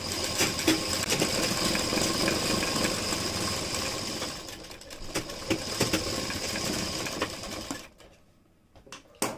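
Sewing machine running a straight seam along the side slit of a kurti, a steady continuous whirring hum that holds for most of the stretch, dips briefly midway, then stops near the end.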